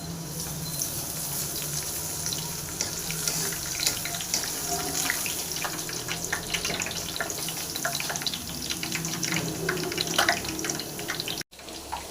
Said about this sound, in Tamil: அப்படியே கை கழுவிக்கலாம்